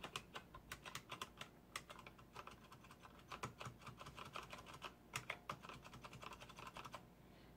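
An IBM Model M keyboard, picked up second-hand with one buckled key spring, clacks under fast typing in irregular bursts of sharp, close keystrokes with short pauses between.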